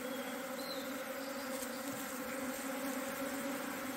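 Honeybees swarm around a beehive in summer, making a steady, dense, close buzz that continues throughout with no voices.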